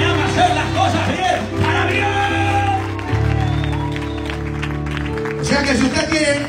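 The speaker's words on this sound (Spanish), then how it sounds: "¿Cuánto que aplaude fuerte los que hacen las cosas bien para Cristo?" A church congregation claps and cheers loudly in a dense crowd, with shouts and whoops rising over sustained applause while a voice speaks over the noise.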